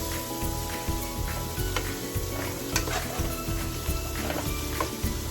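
Finely chopped potatoes sizzle loudly in a pot for Jamaican-style coconut curry shrimp, while a utensil stirs and scrapes in a repeated rhythm through the hiss.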